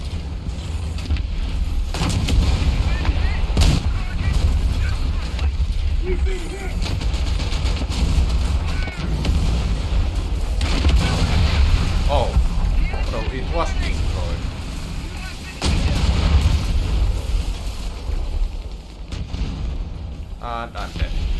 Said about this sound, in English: What the heck are those homing missiles?